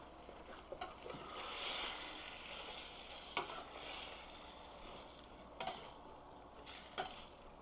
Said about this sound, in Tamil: சிக்கன் போட்டு நல்லா ஃப்ரை பண்ணணும்.